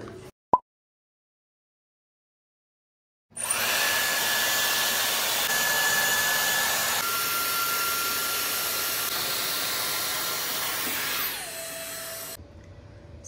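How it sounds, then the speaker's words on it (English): A Dyson Airwrap hair styler blows with a steady, loud, high-pitched motor whoosh for about nine seconds after a brief click, then winds down and stops abruptly. "So I did buy the Dyson Airspray and this is my second time using it."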